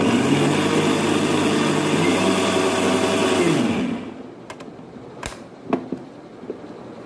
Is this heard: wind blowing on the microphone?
no